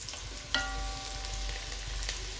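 Garlic hits a hot pan of softened onions for biryani rice and gives off a steady sizzle, broken by one sharp metallic clink near the start.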